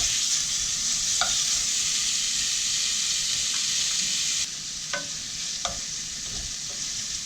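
Beef sizzles steadily in a hot pan, with a few sharp scrapes and clacks of a utensil stirring it, fairly close and alone without voices.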